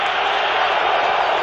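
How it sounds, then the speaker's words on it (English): Stadium crowd booing at a 1997 Monday Night Football game between the Philadelphia Eagles and 49ers, a dense, steady roar of many voices filling the whole moment. "Crowd still booing."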